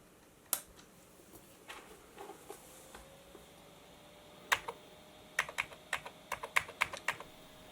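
Keys on a 486 PC keyboard are tapped in two bursts: a few scattered presses early, then a quicker run of sharp, close clicks toward the end, with a faint steady hum underneath and no voices.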